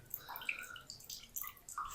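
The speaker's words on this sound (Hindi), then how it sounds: "इसी तरह दोनों हाथों से इनको प्रेस करेंगे और सारा जो इनका स्टार्च है ना, पानी है, वो हम निकाल देंगे" Grated potatoes squeezed by hand to press out their starchy water, giving soft wet squelches and patters of dripping liquid, close and faint, with no talking.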